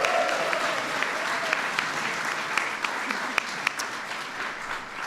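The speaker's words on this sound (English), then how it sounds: "Please give Tobias a big round of applause" A White House Pride Month celebration audience applauds in a large room, a dense, even wash of clapping from many people that holds steady throughout, with a few sharper individual claps standing out.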